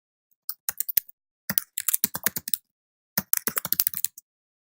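Login details being typed on a computer keyboard, rapid bursts of crisp key clicks in three quick runs separated by short pauses, close and alone.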